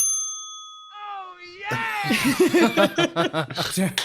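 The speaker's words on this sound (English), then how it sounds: "Bell chime." A single bright bell chime rings out and slowly fades, then voices come in with chatter and light laughter.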